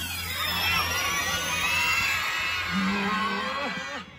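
A children's audience at a hero show shouts the name of a gray whale together in one sustained burst, many voices blending into a loud, echoing roar that fades out at the end.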